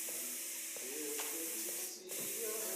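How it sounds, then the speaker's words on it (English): A spray gun paints a truck in Diesel Brothers Truck Building Simulator, giving a steady loud hiss with short pulses and a brief break near the end, over a faint background tone. "So get all this sprayed."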